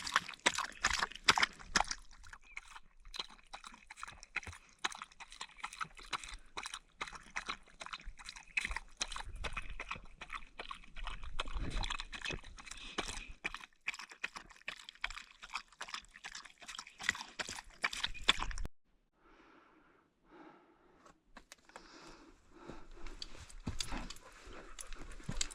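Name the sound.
dog eating dry food mixed with turkey and water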